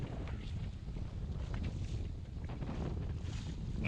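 Small fishing boat under way at sea, its engine a steady low rumble blended with heavy wind buffeting the microphone and water rushing past the hull, constant and fairly loud throughout.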